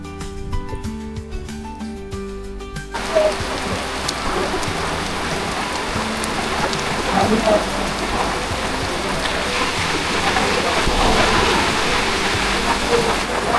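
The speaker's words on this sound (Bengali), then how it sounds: "প্রচুর পরিমাণে বৃষ্টি হচ্ছে আর এই বৃষ্টির ভিতরে আমরা আটকে গেছি" Heavy rain pours down on Chandradinga hill in a dense, roaring hiss that builds after a few seconds of quieter, tonal sound and keeps going strong.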